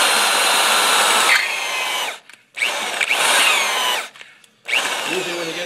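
Power drill boring out an oil galley plug on a Chevy 454 engine block, running loud and close in three sustained bursts with short pauses between, and no talk over it.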